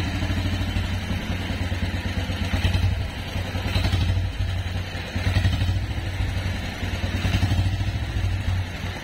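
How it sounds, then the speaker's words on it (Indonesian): A 1956 BMW R26 motorcycle engine runs steadily with a rough, clattering idle, swelling in a few throttle blips that rise and fall over several seconds. "mungkin saya akan sedikit untuk ngegas"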